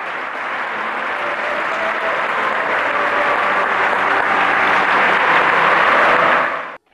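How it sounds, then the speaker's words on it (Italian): A long, dense round of applause from a church congregation greeting two new parish priests as they embrace the bishop, steady and full throughout before cutting off abruptly at the end. "Un lungo applauso ha salutato i due nuovi parroci nel momento dell'abbraccio con il vescovo"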